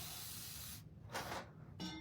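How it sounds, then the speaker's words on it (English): A handheld spray bottle spritzes water onto a painted door tag board, giving two short, close hissing bursts with a pause between them and no talking. "We're going to spray with water again."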